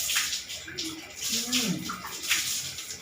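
Water splashes and trickles close by as an elderly woman's face is washed during a bath, with soft splashing in bursts and a voice talking gently throughout.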